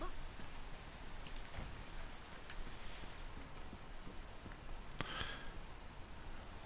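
Rain pours steadily in the survival game DayZ on PS4, set in Chernarus: a constant, dense hiss of falling drops with scattered small splashes and ticks, running unbroken throughout at moderate loudness.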